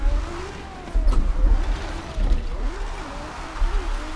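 Engine revving and tires skidding as a rear- or all-wheel-drive car lands jumps while drifting in Forza Horizon 4, with pulsing bursts of throttle and sliding tire noise, loud and close.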